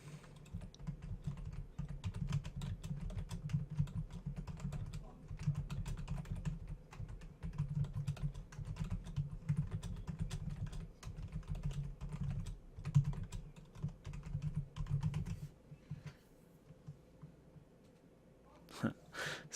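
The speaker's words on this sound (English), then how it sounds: "So we'll just type back." Rapid, steady clatter of keys on a computer keyboard while chatting during a modded Minecraft session, close and continuous over a low hum for about fifteen seconds before stopping.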